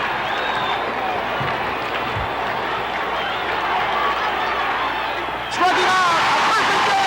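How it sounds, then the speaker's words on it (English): Shea Stadium crowd at a baseball game, a sustained roar of cheering and crowd noise that swells near the end, with an announcer's voice over it. "The crowd is standing."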